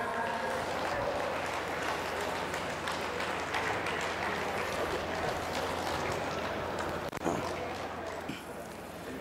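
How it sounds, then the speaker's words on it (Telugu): An audience claps at a stage event as a woman is called up to the dais. The clapping is a dense, steady wash of applause that carries on without a break and fades a little near the end. "క్లాప్స్."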